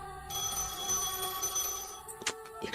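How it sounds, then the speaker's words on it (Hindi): A phone rings steadily with a high electronic tone, going unanswered, with a few sharp clicks and knocks near the end. "ये कृष्णा फोन क्यों नहीं उठा रहा?"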